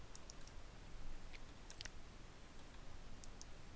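Quiet computer mouse clicks, a few light scattered taps, while playing Minecraft, set over a low steady background hiss.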